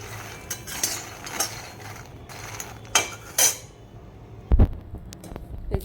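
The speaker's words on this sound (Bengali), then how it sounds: "এই যে প্রথমে আমি মাখাটা হালকা করে ভেজে নিচ্ছি" Fox nuts (makhana) dry roasting in a pan give off scattered light rattles, taps and clinks over a low steady hum, with one sharper knock near the end and no talking.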